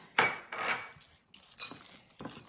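Dark chocolate chips get stirred into a healthy dessert batter with a spoon or spatula, giving a few quiet scraping and clinking strokes against the bowl separated by short pauses.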